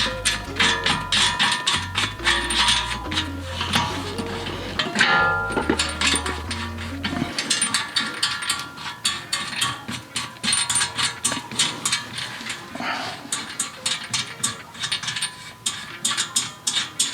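Metallic clicking and ratcheting from a wrench tightening the bottom washer and nut, an odd-sized 23 mm, on a Subaru ball joint, a steady run of close, busy mechanical ticks over a low hum.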